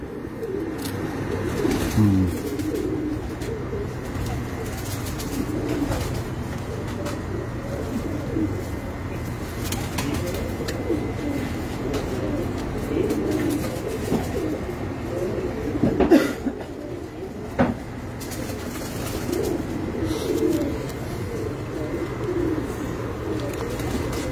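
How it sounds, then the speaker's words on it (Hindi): Pigeons on a rooftop coo in soft, repeated low calls, with a few flutters and other bird chirps around them, steady at a moderate distance. "ये कबूतर है जी"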